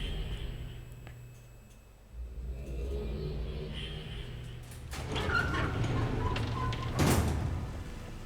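A huge mechanical dome shifts position in the game Uru, heard as a deep low rumble that builds after a quiet stretch, with grinding, scraping and clanking layered on top, one heavy thud near the end, no speech.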